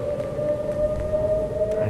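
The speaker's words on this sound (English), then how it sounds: "Siren Head's over here." A wailing siren call from the Siren Head monster in a horror video game, a steady sustained tone holding loud and constant throughout with low rumbling underneath.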